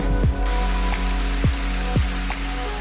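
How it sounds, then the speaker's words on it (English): Rushing water at the top of a waterfall on a Scottish nature trail during Storm Darcy, a steady broadband roar with low rumble, plus a few brief whooshing gusts or sweeps passing through. "This is the very top of the waterfall."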